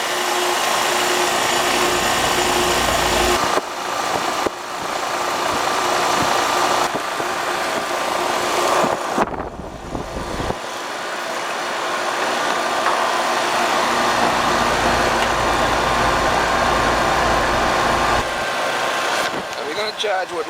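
HVAC unit with a Ruud evaporator coil running after a refrigerant charge, a steady, fairly loud motor and fan hum lasting throughout, broken by brief clunks and handling noises.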